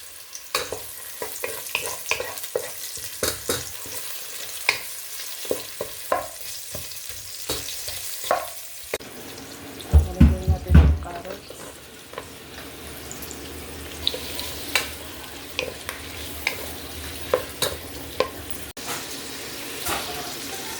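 Garlic and onion stir-fried in a pan, with a steady sizzle and repeated close scrapes and clatters of a utensil stirring, growing louder as more goes in, no talking.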